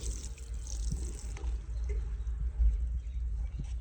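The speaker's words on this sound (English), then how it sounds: "So just a quick little spritz." A hand spray bottle mists water onto potting soil in a container before lettuce seed is sown, a soft, close wet hiss over a low background rumble, with no talking.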